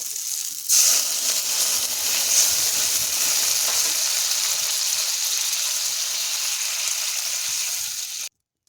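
Water is poured into well-fried spice masala for a light bata fish curry, setting off a sudden loud hiss that holds steady for several seconds before cutting off abruptly.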